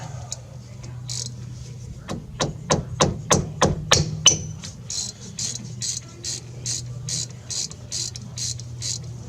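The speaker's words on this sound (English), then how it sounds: "You got two 15mm bolts on the back side holding this pin in. We'll get them off there." Ratchet loosening 15mm brake caliper bolts: a burst of about eight sharp, evenly spaced metallic clicks up close, then a long run of quicker, softer ratcheting clicks over a low steady hum.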